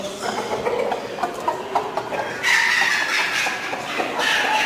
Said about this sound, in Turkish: Bu horoz çok rahatsız ediyor bunu